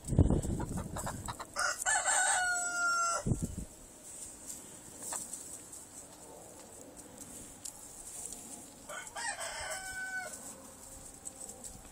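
Delaware chickens kept as breeding stock cluck softly while a rooster crows twice, loud and near, the crows standing out over a quieter background of scattered clucks and farmyard rustle.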